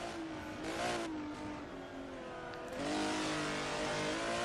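A 1980 ProCar race car's engine roars steadily from on board during a lap at AVUS, the pitch rising and falling through gear changes with a louder surge near the end.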